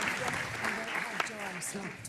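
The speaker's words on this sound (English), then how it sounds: "Big round of applause, please," Conference audience applause on a stage: a dense wash of clapping from a crowd, fairly close, with a voice speaking over it.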